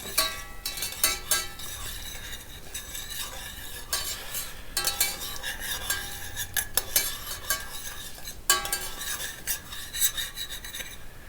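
Urad dal and dried chilies sautéed in a pan for lemon rice, heard as a persistent close scraping and rasping of a spoon stirring against the pan over a light sizzle, with no talk.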